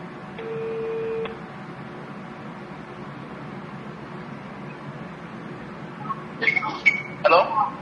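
Phone placing a call: a steady electronic tone near the start, then a cluster of short dialing beeps toward the end over a faint background hiss.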